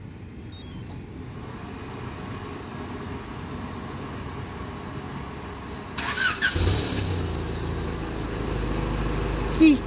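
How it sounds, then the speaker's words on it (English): A Honda EG car engine is started remotely by a Yupiteru auto-start system: quiet background, a short chirp, then the starter cranks and the engine catches, settling into a steady idle. "engine start."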